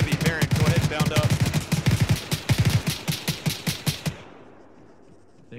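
Rapid automatic rifle fire rattles in a fast, steady burst for about four seconds in the military shooter Arma 3, loud and close, then cuts off into quiet.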